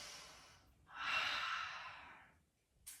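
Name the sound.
deep full breath during yoga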